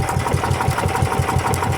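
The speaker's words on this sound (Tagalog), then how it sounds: "Kapag umaandar yung makina," A service boat's engine runs close by with a steady, rapid chugging throb, a regular mechanical pulse that carries on unbroken with no voices over it.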